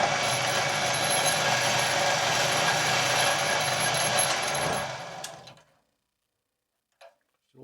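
Wood lathe turning a scrap hardwood file handle, a steady buzzing, whirring drone with a rapid ticking texture that winds down and stops, then a brief faint clink in the following quiet.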